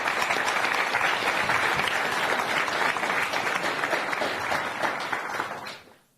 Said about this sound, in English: a big round of applause for them for coming here